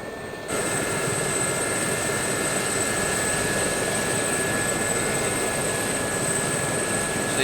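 A Gazelle helicopter in the DCS flight simulator whines steadily after a sudden start, holding a high, constant turbine tone over a broad rotor and engine roar, loud and unbroken with no talking.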